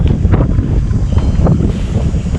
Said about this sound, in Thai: มีลมพัดตลอด